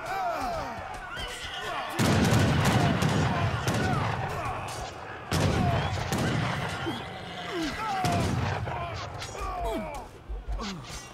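Musket and artillery volleys from an Age of Empires III battle, ranged units firing on cavalry, come as dense repeated bursts of crackling shots and thumps, loud and sustained across the scene amid general game battle noise.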